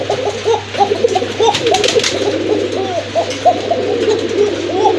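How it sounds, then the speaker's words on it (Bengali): Koka pigeons coo over and over in soft, rolling calls, with a steady low hum in the background. "এক জোড়া কোকা কবুতর দেখলাম যেগুলো কিন্তু প্রচুর ডাকে"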